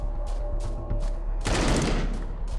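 A Shkval gun fires at zombies in the underground event of the game Into the Dead 2, with several sharp single shots followed by a heavy, loud blast that booms and rings out.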